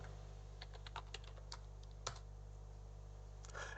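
Quick, uneven keystrokes on a computer keyboard, close and fairly quiet, with clustered taps and a few sharper key presses over a steady low hum.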